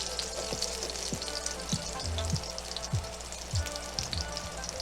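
White corn tortillas cooking in a pan, with a steady close-up sizzle of oil and occasional soft clicks and taps, and no one speaking.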